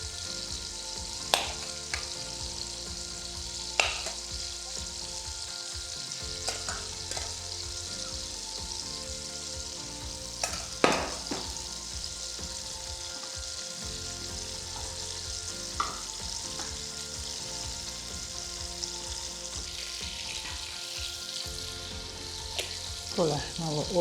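Potatoes and spice-braised kale are stirred together in a sizzling pan, a steady frying hiss with occasional scraping knocks of the utensil against the pan.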